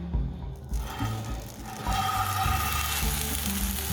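A nacho grilled cheese sandwich searing in a hot, unbuttered cast iron skillet over medium-high heat, a soft steady sizzle that swells after a brief clatter and continues alone.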